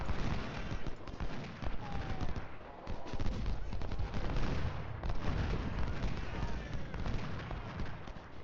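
Dense battlefield gunfire in Ultimate General: Civil War, continuous massed musket crackle with heavier booms mixed in, a loud, rolling, unbroken din.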